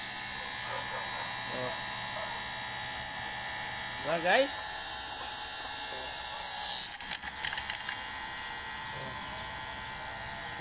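A homemade stove blower built from a small electric motor in a junction box runs with a steady, high-pitched whirring hum close by, while someone speaks briefly over it.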